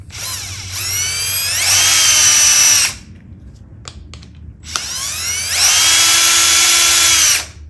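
A power drill or driver spinning out 7mm bolts from a Briggs & Stratton 500 E lawn mower engine, two loud whining bursts of about two to three seconds each, separated by a short pause with light clicks.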